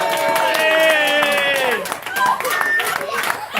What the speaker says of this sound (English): let's have a round of applause for Danielle.